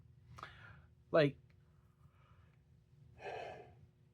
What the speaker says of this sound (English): Apologies for all the yawns.